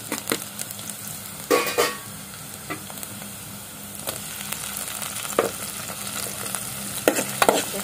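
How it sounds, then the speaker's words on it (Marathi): Onion sautéing in a pan gives a low, steady sizzle broken by repeated scraping stirs and a few sharper clinks of a spoon against metal, close by with no voices. "कांदा थोड़ा लाल होईपर्यंत परतायचा"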